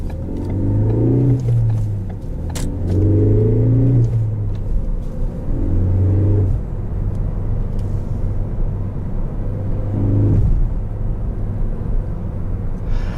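A 2018 Ford Focus ST revs up repeatedly while driving, with each rise in engine note dropping away between gears over a constant low cabin rumble.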